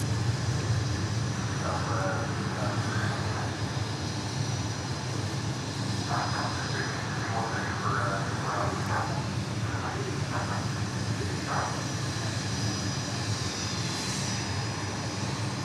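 Airplane departing Dallas Love Field, a steady loud engine roar sustained throughout with a rising turbine whine toward the end, heard from a spotting position near the runway.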